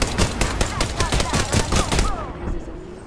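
Rapid gunfire in Apex Legends on the Kings Canyon map, a quick run of sharp close shots for about two seconds before cutting off, leaving a quieter tail with faint game sounds.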